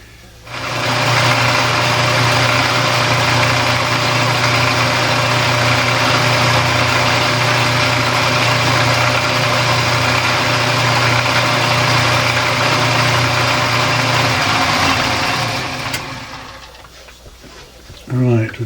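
A metal lathe puts a chamfer on a steel workpiece before threading, with a loud, steady machine hum and cutting drone that runs for about fifteen seconds, then stops abruptly.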